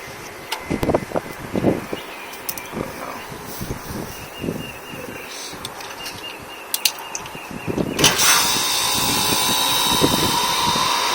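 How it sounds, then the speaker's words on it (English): A home air conditioner's compressor and outdoor condenser fan start up after repair. Close mechanical clatter and handling noises come first, then a loud steady broadband whoosh swells in and keeps running. "the fan actually kicked in a lot better"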